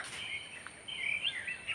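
Birds chirp in short, high whistling notes close by, rising and falling quickly over a quiet background.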